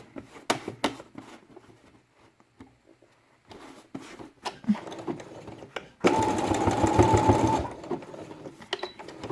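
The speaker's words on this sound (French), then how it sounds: "je pique mon cordon" A sewing machine stitches a cord down onto a felt quiet book page, starting with a few scattered taps and then running in a steady, close whirring burst for about two seconds.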